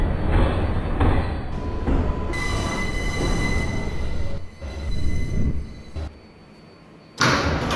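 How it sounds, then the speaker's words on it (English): A New York City subway 6 local train runs loudly along the track, with a continuous rumble, wheel squeal and rattling, then a brief quieter lull before the noise surges again. "This is a Pelham Bay Park bound 6 local train"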